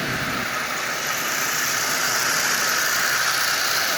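A Lionel 8200 dockside switcher model train runs on AC track with a steady, hissing mechanical whir that holds constant throughout, with no voices.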